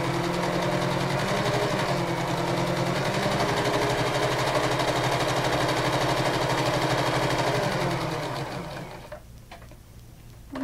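Steady mechanical whir of a sewing machine running a headband seam, loud and close for about nine seconds before slowing and stopping near the end.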